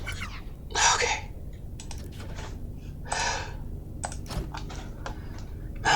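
Clicky computer keys are typed in quick bursts during a factory-building game with conveyors, interspersed with brief pauses and a few louder key clusters, close to the microphone.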